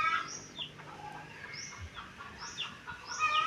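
Chicks being fed peep in short, high, faint calls that repeat irregularly over a quiet background.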